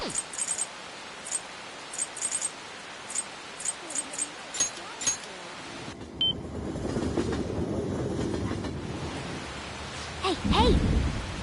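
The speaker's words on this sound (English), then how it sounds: "It's raining so hard." Heavy rain and rumbling thunder from the video game Persona 5 Royal: a steady downpour swells into a broad, deep roll of thunder that builds and peaks loudly near the end, following a stretch of quieter game sounds.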